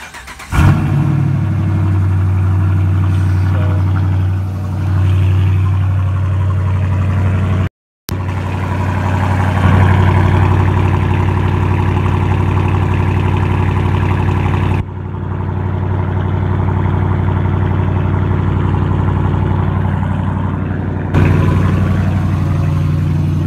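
A 2017 Dodge Challenger R/T V8 fires up with a loud bark, then settles into a deep, steady idle with a brief cut and slight swells in loudness, close by and without talk.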